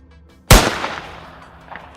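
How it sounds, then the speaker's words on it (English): One sharp, loud gunshot rings out outdoors during a wild boar hunt in an open field and fades into a long echo, followed by a faint second crack at the end. "I fire on instinct, dropping it instantly."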